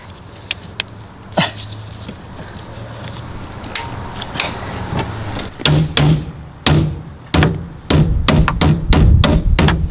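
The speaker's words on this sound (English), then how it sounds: "you just hammer stuff in until it fits" A hammer strikes repeatedly while fitting a Hard Dog roll bar, irregular at first, then in a quicker steady run of sharp, close blows toward the end.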